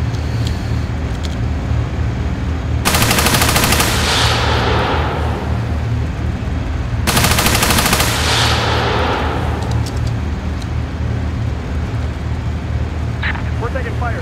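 Two long bursts of machine gun fire in the Steel Beasts Pro tank simulator, each a dense rattling volley lasting about a second, over a constant low engine rumble, with radio-style voices talking.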